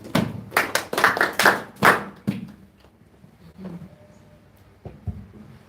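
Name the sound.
class giving a round of applause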